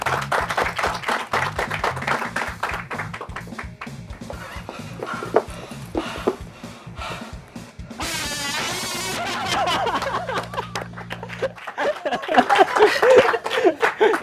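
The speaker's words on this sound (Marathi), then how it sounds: "एकदा वळून टाळ्या मारा तांच्या खातीर" Audience applause and scattered laughter fill a studio during a Konkani television show, with steady clapping mixed with music and background chatter throughout.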